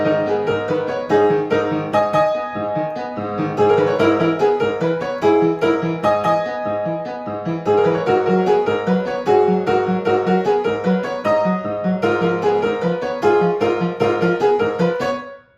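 A piano plays a piece from Kingdom Hearts with the half pedal held, a flowing passage of detached notes over a sustained low bass, continuous and close for about fifteen seconds with no talk.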